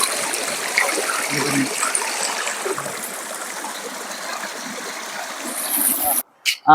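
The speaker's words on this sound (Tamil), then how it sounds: "இப்போ பாருங்களா அந்த தண்ணி சத்தம் கேட்குதா" Steady broadband rush of a flowing stream in dense forest, continuous and fairly close, with a few faint voices and a brief break near the end.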